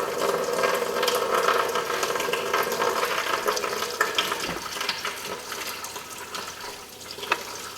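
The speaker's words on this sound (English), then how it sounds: "I'm just going to see if there's any more coolant, let it drain." Coolant drains out of a BMW radiator in a steady, continuous rush of liquid, with a faint knock partway through and a small clink near the end.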